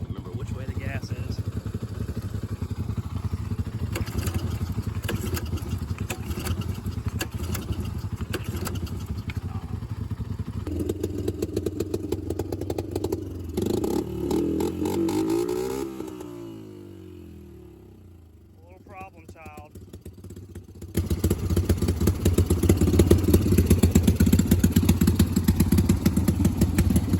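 A barn-find Kawasaki and a Honda motorcycle idle nearby with a steady putter that dips and fades midway, then returns louder and rougher, while people talk throughout.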